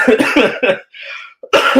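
A harsh burst of repeated coughs, then a short pause with a faint wheeze, followed by another rough coughing fit.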